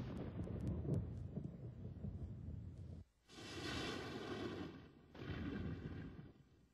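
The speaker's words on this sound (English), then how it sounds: "The evening before the test, a violent thunderstorm builds and breaks over ground zero." A violent thunderstorm rumbles with heavy, booming thunder that rolls on for several seconds, breaks off briefly, then comes back in a loud crashing burst and a further long rumble, with no voices.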